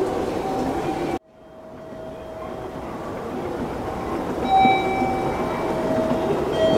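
A train at a station platform gives off a steady rumble with faint tonal whines. The noise cuts out abruptly for a moment and then swells back to a constant mechanical drone.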